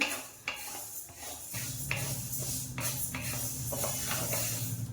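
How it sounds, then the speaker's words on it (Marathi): Urad dal being dry-roasted and stirred in a pan for chakli flour, a steady run of scraping, rattling strokes against the metal over a low background hum, close and moderately loud, with no talking. "उडदाची डाळ पण चांगली भाजायची अशी."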